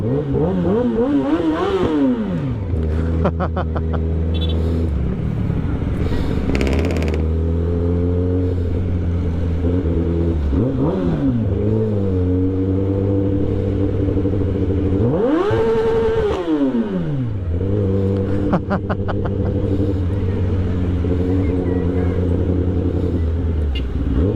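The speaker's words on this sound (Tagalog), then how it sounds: "Traffic." Street traffic with cars and motorcycles: engines nearby, loud and continuous, revving up and dropping in pitch again and again, with clattering mechanical noise underneath.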